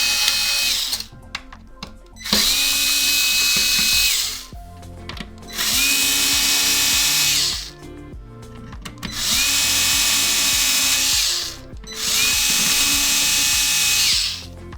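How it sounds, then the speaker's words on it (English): A power driver fitted with a T8 bit whirs in several short bursts while backing screws out of an Xbox One X console, close and loud, with brief mechanical clicks and pauses between the runs. "So you're gonna take the 3 T8 screws here."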